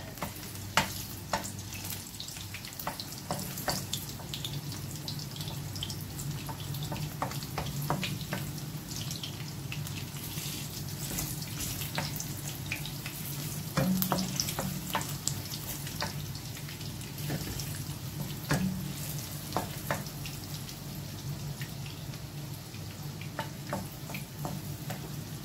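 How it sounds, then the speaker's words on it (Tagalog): Carrots fry in a hot pan with garlic, making a continuous close hiss and crackle for a long stretch. Occasional light clinks and scrapes of stirring break through, and no one speaks. "At i-fry natin ang ating carrots"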